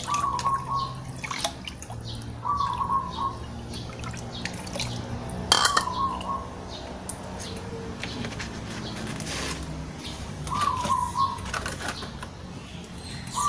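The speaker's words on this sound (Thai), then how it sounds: "ถ้วยนี้ น้ำห้าลิตร เราก็จะไป ลาดลงในท่อเลยเพื่อน" Fermented pineapple cleaning liquid pours down a drain with a continuous splashing trickle and gurgle, close by, with occasional drips and bumps of a container.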